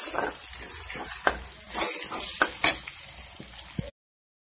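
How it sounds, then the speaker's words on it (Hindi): Tomatoes frying in hot oil for a liver masala (kaleji), giving a steady bright sizzle with intermittent stirring scrapes and clinks, then cutting off abruptly near the end. "जिसमें हम डाल देंगे टमाटर, और इसको हल्का सा 1 मिनट के लिए पकाएंगे इस गर्म तेल में"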